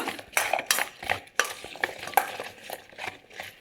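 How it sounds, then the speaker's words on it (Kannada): Guava chaat with masala and sugar tossed together in a bowl, a spoon scraping and clinking in quick irregular strokes, close and fairly clear with no talking. "ಒಂದು ಸರ್ತಿ ಎಲ್ಲನ ಮಿಕ್ಸ್ ಮಾಡ್ಕೊಳ್ಳೋಣ ಚೆನ್ನಾಗಿ ಮಿಕ್ಸ್ ಮಾಡ್ಕೋಬೇಕು ಎಲ್ಲನ"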